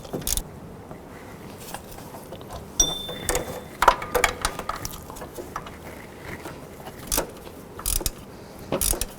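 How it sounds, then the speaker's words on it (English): A ratchet clicks in short bursts as it tightens the upper bolt of the belt tensioner on a 2007-2011 Honda Civic, with close metallic clacks and light jingling and no talking. "I'm going to go ahead and tighten up the upper bolt."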